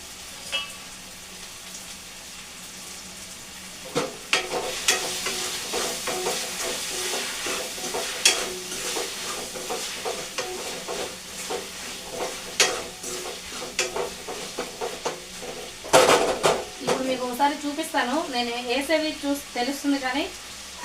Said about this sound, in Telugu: జస్ట్ అలా వన్ మినిట్ ఫ్రై అయితే చేసుకుందాము ఓకేనా